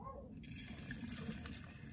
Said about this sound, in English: I'm going to pour it over our cauliflower.